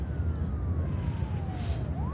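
A police car siren in the SimCity city-building game, one long falling wail sweeping steadily downward and then turning back up at the end, heard over a dense, steady game soundscape of city ambience.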